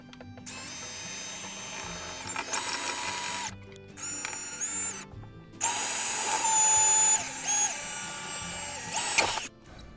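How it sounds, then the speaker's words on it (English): A power drill pre-drills holes for installing steps on a van, running in several bursts of high whine that start and stop, close and loud, with pauses between them. "let's see if I can pre-drill"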